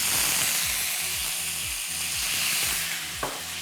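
Stock poured into a hot wok with garlic, ginger, chilli, spring onions and carrots, a loud sustained sizzle with a repeated rhythmic clatter of stirring or pan movement underneath, close by.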